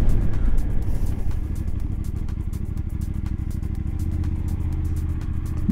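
A Voge DS900X motorcycle under full throttle gives a loud, close, continuous engine roar with a fast pulsing rumble and wind noise, heard alone.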